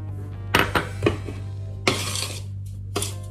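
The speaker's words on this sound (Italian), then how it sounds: "inizio a mescolare questi tre ingredienti" A utensil clinks and scrapes against a bowl while sugar and other ingredients are stirred together, several separate sharp knocks spread over a few seconds beneath a steady low hum.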